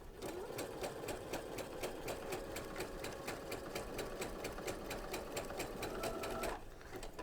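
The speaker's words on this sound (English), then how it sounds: "And start sewing." A sewing machine with a sequins foot stitches sequin ribbon in a fast, steady, even clatter, close and continuous for several seconds before stopping.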